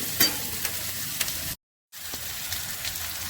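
Onion, grated ginger, salt and turmeric sizzle in hot oil in a pan for a cabbage curry, a steady close crackle with scraping stir strokes that drops out briefly partway through.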